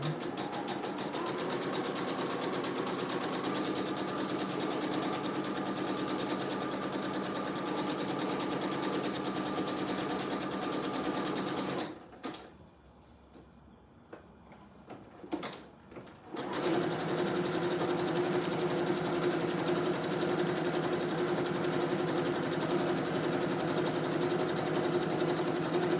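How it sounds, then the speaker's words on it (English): A sewing machine runs a zigzag stitch on dog clothes in a steady, loud whir, pausing briefly near the middle before resuming at a slightly different pitch until the end. "I'm gonna put a zigzag stitch on this and turn it one time."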